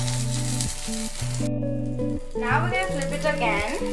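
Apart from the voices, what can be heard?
food sizzling in ghee on pan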